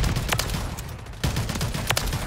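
Rapid gunfire from a gun in Modern Warfare 3, loud and close, with bursts of shots and a short lull in the middle of the stretch.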